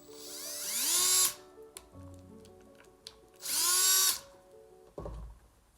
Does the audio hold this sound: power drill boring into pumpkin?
yes